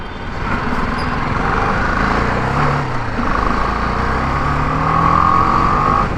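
Continuous engine drone of a BMW G 310 GS motorcycle with worn clutch plates during a test ride, heard close up with wind rush and shifting pitch as it accelerates and settles, with no talking.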